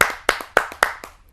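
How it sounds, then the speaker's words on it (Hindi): Sparse, distinct hand claps from an audience at a Hindi kavi sammelan poetry gathering as a poet is welcomed, about five sharp claps in a slow uneven rhythm, close and fairly loud, with no talking. "आप सबकी जोरदार तालियों से आमंत्रित करते हैं"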